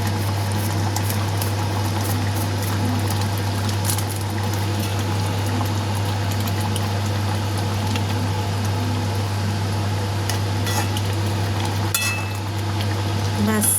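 Egg curry simmering in a pan as it comes to the boil, a steady low bubbling and frying hiss with a constant hum underneath, close and continuous throughout.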